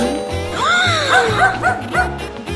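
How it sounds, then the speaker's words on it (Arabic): Small puppy giving a quick series of yips and whimpering bow-wows, about five short rising cries close by over a low background. "إنه كلب أوه كلب لطيف"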